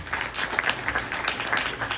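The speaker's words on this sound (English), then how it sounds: "Give him a round of applause." An audience at a MahaShivaratri celebration at a Hindu center applauds after a religious discourse, with dense, sustained clapping from many hands and little talk over it.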